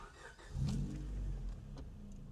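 A 2000 Honda Civic EK9 Type R engine cranks and catches, a short starter whir followed by a low, quiet rumble settling toward idle, heard from inside the car.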